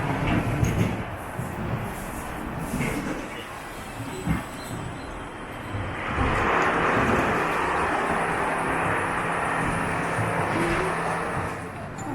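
Rattlesnake roller coaster at Chessington World of Adventures rumbles and rattles along its track in a continuous, clattering roar that grows louder and fuller partway through the ride.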